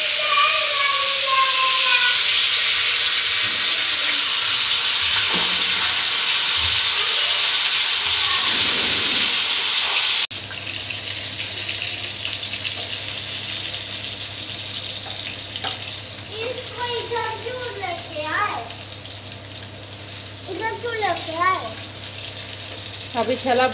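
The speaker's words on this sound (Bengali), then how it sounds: "আমি মাছ ভাজা করলে একদম মানে ভালো করে মাছটা ফ্রাই করে নিই" Rohu fish frying in hot oil in a pan gives a loud, steady sizzling hiss for about ten seconds, then continues more quietly while voices talk over it.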